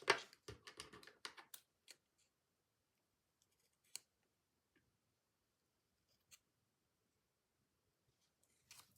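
Scissors cut paper for a collage: a quick cluster of crisp snips and rustles near the mic in the first two seconds, then a few isolated clicks and taps spaced apart in near silence, with no talk.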